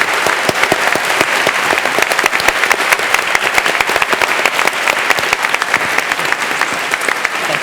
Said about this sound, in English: ask for a very big round of applause for Robert Putnam